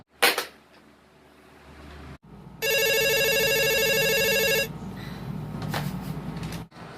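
An indoor telephone rings with one long, loud, buzzing ring lasting about two seconds, preceded by a couple of sharp handling clunks, with quieter room noise afterwards.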